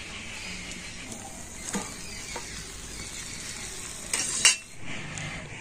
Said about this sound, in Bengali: আর এইভাবে আমি সমস্ত খাজাগুলো কিন্তু ভেজে নেব।